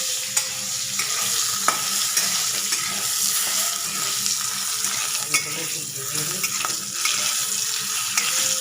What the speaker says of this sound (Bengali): আমগুলো ভেজে নিই।